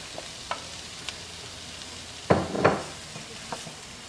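Onions frying in a pan for an udon stir fry give a steady, close hiss of sizzling, with a few sharper scrapes and pops from stirring, and no talking.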